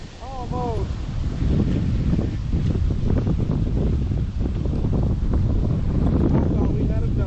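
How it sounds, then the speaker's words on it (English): Steady south wind gusting across a lake, buffeting the microphone in a constant broadband roar, with low voices talking underneath throughout. "Here comes that south wind"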